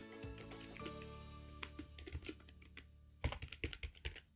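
Computer keyboard typed on while writing code, quick close clicking keystrokes in irregular bursts with brief pauses, no speech.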